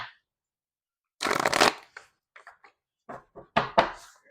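A deck of tarot cards is shuffled up close, with one long riffling burst followed by several shorter flicks and taps, and a final pair of sharp snaps, without any talking.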